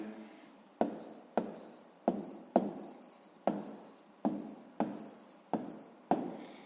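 A pen writes a math answer by hand on paper in a steady series of short strokes, each starting with a sharp tap and trailing off, about eight in a row, close and quiet with no talking.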